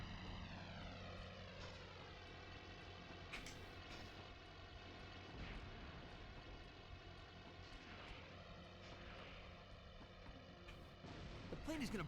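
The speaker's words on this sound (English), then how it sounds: "That plane's out of control." An out-of-control propeller plane in the Spider-Man 2 video game drones loudly and steadily throughout, its engine tone wavering under a dense layer of game noise and intermittent bursts.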